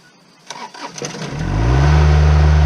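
Straight-piped Chevy 454 big block V8 cranking with a few clicks and turnover bursts, then catching and roaring up to a loud, deep, rumbling idle, close by.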